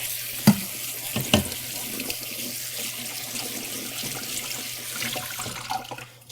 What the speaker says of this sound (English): I'm going to take our green beans and I'm going to rinse them off real quick.